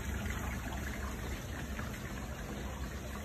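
Water pouring steadily into a supply drum for a tower aquaponics system, a continuous broadband gush that stays even and close for the whole stretch, with no talking.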